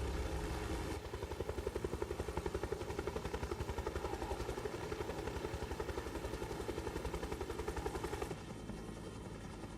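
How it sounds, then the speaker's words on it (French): A helicopter in the video game Ghost Recon Wildlands gives a loud, steady rotor thump with rapid, even blade pulses over a constant engine whine, running continuously without talk. "On a l'hélicoptère."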